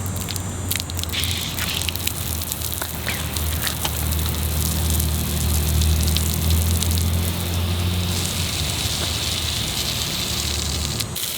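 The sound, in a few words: water spraying from Aqua Joe telescoping sprinkler garden hose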